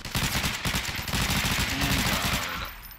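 Rapid automatic gunfire from weapons in the video game Garry's Mod, a dense continuous burst of shots lasting a few seconds before cutting off.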